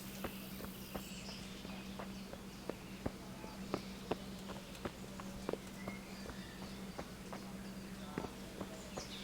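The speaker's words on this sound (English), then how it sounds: "I'm gonna grab a horse as well." Horse hooves clip-clop in the medieval game Kingdom Come: Deliverance, a steady series of light, evenly spaced hoof strikes over a faint, constant ambient hum.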